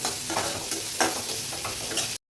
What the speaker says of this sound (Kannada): ಬೆಂದಿರೋಂಥ ಸೋರೆಕಾಳು ಬೇಳೆನ ಹಾಕಿ ಫ್ರೈ ಮಾಡ್ಕೊಂಡ್ರೆ ಪಲ್ಯ ರೆಡಿ